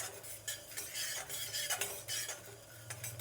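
Cumin, fenugreek and mustard seeds fry in a pan of hot oil for sambar, giving a crackling sizzle broken by uneven metal scrapes and clinks of a spoon stirring.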